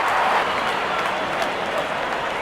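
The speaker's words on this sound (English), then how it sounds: "To a splendid 50, good innings and gets a grand applause." A cricket crowd at a Bangladesh versus Ireland T20 international applauds a batsman reaching fifty, a steady, dense wash of clapping and crowd noise that holds at full strength throughout.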